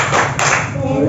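Children clap together in a rhythmic classroom clapping game about butterfly metamorphosis, several sharp, close claps in a quick pattern, with voices heard alongside.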